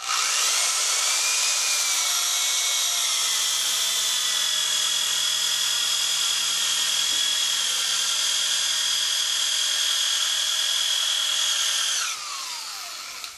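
Cordless power drill spinning a roto-cork at lower RPM against a cross-country ski base, a steady high whine held for about twelve seconds, then winding down and stopping.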